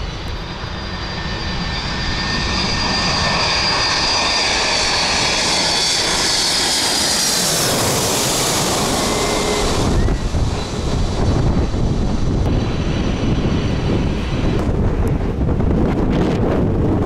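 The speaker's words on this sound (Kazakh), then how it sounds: "мені ұшақ ұшып кетіп бара жатыр" A jet airplane flies low over a beach during strong wind. Its engine roar builds and swells to a loud peak, then stays loud and rough beneath heavy microphone wind buffeting.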